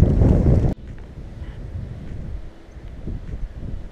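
Strong wind at a beach in Guaratiba, Bahia, during rain, with a loud burst of microphone buffeting at first that drops to a lower, steady, gusty roar and whooshes.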